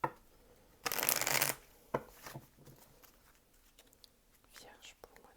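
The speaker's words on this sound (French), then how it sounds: "pendant que je tire les cartes" Tarot cards being shuffled and drawn during a reading, with one loud, dense riffle of shuffling lasting under a second, then softer card handling and faint whispering.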